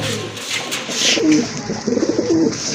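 Fancy pigeons coo close by in a repeated throaty rhythm, several low warbling calls over a background of wing shuffles and faint chirps, with no talking.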